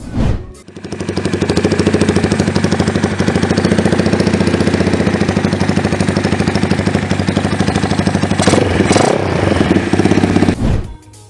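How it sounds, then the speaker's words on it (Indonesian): A custom 2006 Honda Tiger Revo motorcycle with a stainless steel exhaust idles loudly up close with a steady, rapid throbbing exhaust note, briefly revved near the end before cutting off. "Ayo kita dengerin suara dari motor ini."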